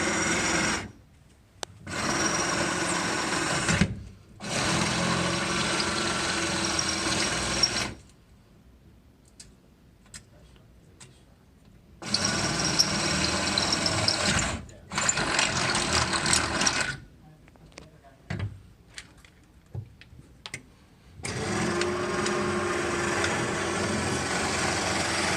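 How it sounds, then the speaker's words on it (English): A drill with a 3/8 bit bores holes while a full surface continuous hinge is fitted to a dragging commercial door, coming in four separate loud bursts with quiet gaps between them. "3/8 drill bit"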